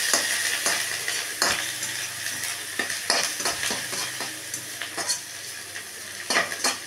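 Ginger tossed into hot oil with whole spices, five-spice, cumin and cloves, for a Bengali cabbage curry, sizzling and frying steadily up close while a spoon stirs and scrapes the pan in repeated clinks.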